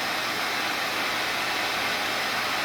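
A hair dryer runs from a 12-volt, 2000-watt power inverter on battery power, giving a loud, steady broadband blowing roar that holds unchanged throughout with no pauses.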